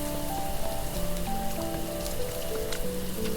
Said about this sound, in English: So, Cohen, it's raining.